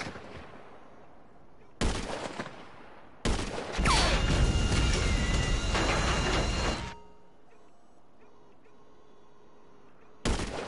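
Heavy gunfire in GTA V arriving in loud sustained bursts, one long barrage lasting several seconds between shorter blasts, with quiet gaps between and little talk.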